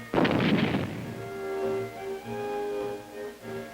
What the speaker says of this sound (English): the detonation of hand grenades just below the crest of a critical slope